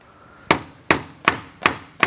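Five sharp, evenly spaced taps of a hammer striking a piece of plastic held against a bolt, close and crisp, each with a short ringing decay, no voices.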